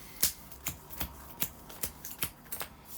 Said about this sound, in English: And then we shuffle all of this up.